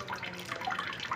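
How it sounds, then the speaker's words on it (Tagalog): Tap water trickles slowly into a basin being filled for laundry, a soft, steady splashing and dripping that carries on evenly throughout, close by, with no voices. "Ganito na lang yung tulo ng aking tubig hanggang mapuno"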